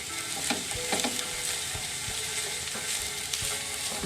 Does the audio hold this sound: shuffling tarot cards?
no